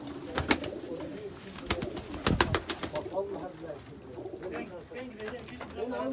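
Pigeons coo in a coop, with low, steady burbling throughout. Sharp clattering bursts, likely wing flaps, come in the first few seconds, and faint voices can be heard in the background.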